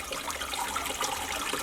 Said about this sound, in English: So we're just going to continue pouring